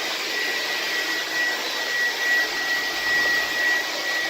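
A vintage 1970s Air Way Sanitizor Mark V vacuum cleaner runs steadily with a loud, high-pitched motor whine and airy rush that swells slightly as it moves across the floor, with no voices.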